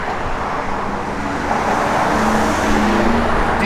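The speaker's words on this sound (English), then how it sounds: "Turn the key, fire it up." 1970 Plymouth Barracuda with a 340 V8, electronic ignition and Hooker headers, idling with a steady, even low rumble close by and no talking.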